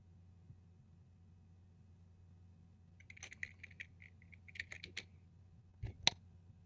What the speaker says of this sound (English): It doesn't scare me that he's typing.